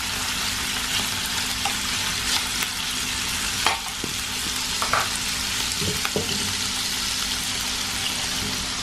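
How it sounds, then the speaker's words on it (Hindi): Chicken pieces fry in about two teaspoons of oil in a pan for Chinese biryani, with a constant close sizzle broken by a few louder stirring scrapes and clinks. "ये मैंने 2 टीस्पून जाके तेल डाल के ना ये चिकन इसके अंदर फ्राई करने के लिए रख देती हूँ।"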